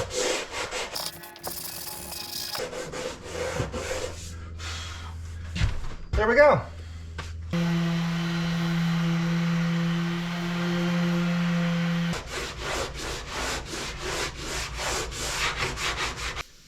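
Hand sanding a wooden boat under restoration with a sanding block that has a slight round-over, using coarse 80 and 100 grit. Rough rubbing strokes come in bursts, with a steady hum in the middle stretch and a brief spoken remark.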